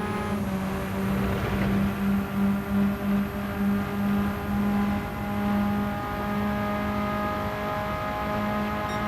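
A race car engine in a racing game holds a steady humming drone throughout, with a short pulsing stretch early on, heard alone without talk.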